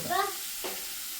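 A dish with green chilies and water is stirred in a cooking pot, giving one brief scrape over a soft steady hiss, with a short voice at the start.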